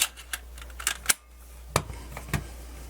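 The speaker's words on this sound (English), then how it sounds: "Yes, I heard the clicking noises." A portable CD player clicks repeatedly while struggling to read a Lenny Kravitz disc with a read error, giving sparse, sharp mechanical ticks spread irregularly across a quiet background.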